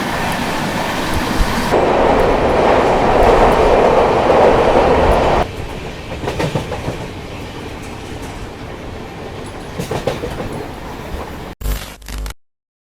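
Shri Shakti AC SF Express rolling out of New Delhi, a loud, steady rumble of the moving train heard up close, easing into a quieter clatter before abruptly cutting off.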